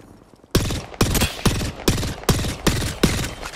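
Rapid bursts of rifle fire in a hectic Apex Legends team deathmatch, likely a Nemesis rifle, seven sharp loud shots spaced evenly about half a second apart, close and dominant with no talking.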